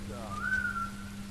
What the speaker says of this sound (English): Manfred, you like to make a whistling sound if you don't mind?